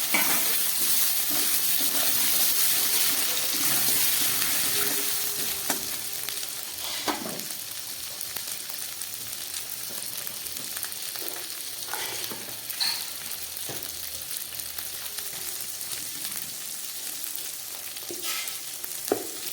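Tomato pieces and pre-fried potatoes sizzle in a pan for a cabbage dish, a continuous close frying hiss with scattered clicks and scrapes from stirring, loudest at the start and settling into a steady sizzle.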